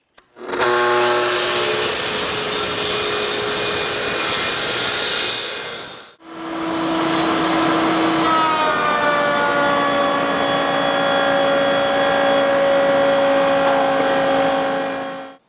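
Router cutting grooves into Baltic birch plywood, two loud sustained passes of high whining motor noise separated by a short pause, close and continuous with no talking.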